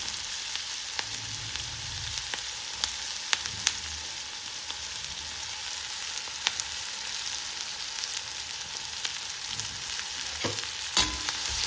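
Finely chopped onion with asafoetida and grated ginger frying in a pan for a soybean karanji filling, a steady bright sizzle with occasional stirring clicks, close and continuous.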